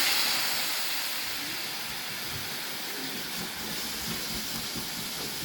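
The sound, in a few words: water added to hot pan with noodle seasoning, hissing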